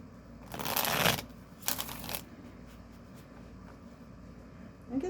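A deck of tarot cards is shuffled in two quick riffling bursts, close and crisp, followed by softer handling noise over a low background hum, with no speech.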